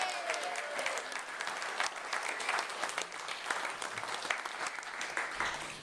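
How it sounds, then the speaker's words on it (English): Wedding reception guests applaud the bridesmaids during the groom's speech, with steady, fairly close clapping for about six seconds. No distinct cheering stands out above the clapping. "A big cheer for the bridesmaids,"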